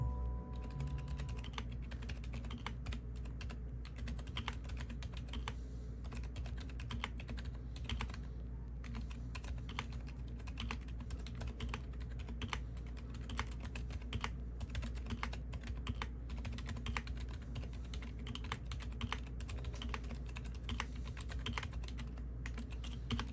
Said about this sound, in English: That is what the keyboard sounds like.